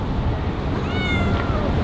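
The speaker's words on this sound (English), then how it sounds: "There's a cat sitting on a windowsill in the middle of downtown." A cat gives a short, thin meow partway through, heard over a constant outdoor rumble of city wind and traffic.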